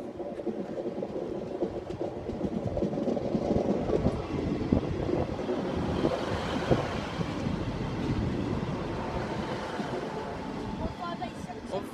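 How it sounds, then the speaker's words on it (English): A Class 158 diesel multiple unit train rumbles and rolls in steadily at Grantham station's platform 4, a broad continuous roar of engine and wheels that stays loud and close throughout. "Now about to arrive on platform number 4 at Grantham"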